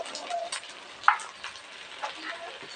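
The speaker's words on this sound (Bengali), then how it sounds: "আদাটা ভালো করে ভেজে নিতে হবে" Ginger and cumin powder fry in hot oil in a pan, giving a soft, continuous sizzle broken by a few sharp scrapes and clicks of stirring.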